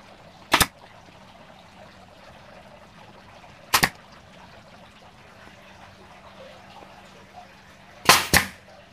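An NRT Pro nail gun fires nails into a Dutch teak board: three sharp, loud pneumatic shots spaced a few seconds apart, the last a quick double, over a quiet room with low hum.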